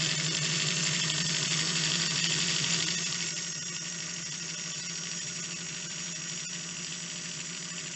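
A Singer 401 Slant-O-Matic sewing machine runs steadily, winding a bobbin under foot-pedal control with a continuous whirring hum that is louder at first, then settles slightly quieter and stays even, close up.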